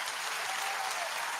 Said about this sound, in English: Can we have some applause on the new bump music?